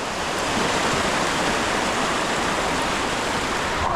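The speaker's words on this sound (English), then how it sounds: "I hope there's not too many more waterfalls to cross" Loud, steady roar of a waterfall and rushing stream at close range, broadband white-water noise with no let-up, heard while crossing the water on a high-altitude fishing trip.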